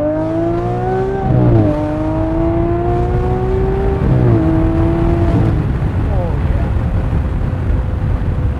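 A V12 car with an automated ISR manual transmission accelerates hard, its engine note climbing through several gears with distinct drops at each shift, loud and close.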